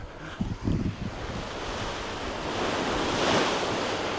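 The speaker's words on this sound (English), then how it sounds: "oh, the waves are coming over." Waves crash and wash over rocks along the Maltese coast near Qawra Bay, a broad, hissing surge rising louder toward the end, mixed with gusty wind buffeting the microphone and a few thumps early on.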